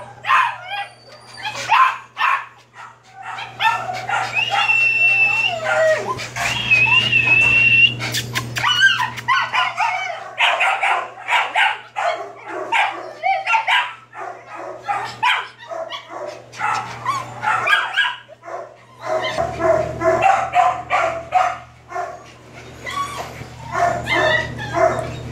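Puppies in shelter kennels bark and yip excitedly in overlapping high-pitched bursts, with whimpers and squeals, close by and nearly continuous.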